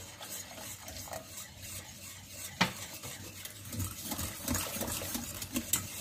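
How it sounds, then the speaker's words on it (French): Sauce for bolognese lasagne being stirred in a pan while liquid is added, with soft scraping and clinking of the utensil against the pan, one sharp knock midway, close and continuous. "On mélange toujours sans cesser de s'arrêter"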